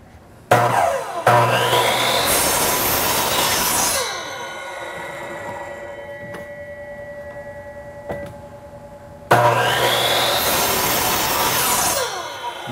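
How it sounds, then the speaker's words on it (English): A miter saw cuts through a wood board in two bursts: a loud whine as the blade spins up and bites, a ringing wind-down, then another loud cut near the end. "I have a miter saw, and we're going to make those straight cuts using the miter saw."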